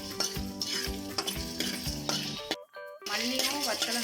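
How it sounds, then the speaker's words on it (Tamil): Coriander seeds and dried chillies dry-roasting in a pan, stirred with quick metallic scrapes and rattles, with a tonal hum running underneath and a brief silent gap near the middle. "இப்போ இது ரெண்டையும் நல்லா வாசனை வரப்படி வறுத்துக்கலாம்."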